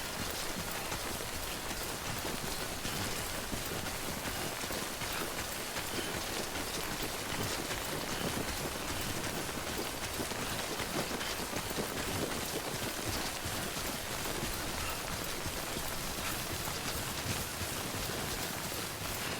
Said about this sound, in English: this rain's just not letting up